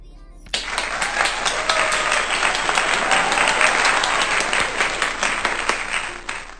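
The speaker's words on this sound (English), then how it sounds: "Round of applause to myself." Sustained applause with dense clapping starts abruptly and holds steady and loud, sounding like a recorded crowd cheer effect with no talk over it.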